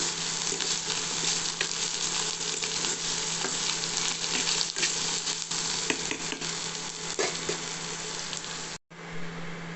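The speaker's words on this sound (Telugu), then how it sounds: "కొంచెంసేపు ఉల్లిపాయలు వచ్చే వరకు ఉంచుదాం" Onions with ginger fry in a pan for a green gram curry, making a dense, steady sizzle close by with occasional stirring clicks and a short gap near the end.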